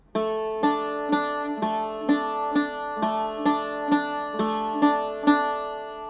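A bouzouki plays a steady repeating three-note picking pattern, bright metallic plucked strings ringing out alone at an even moderate rhythm.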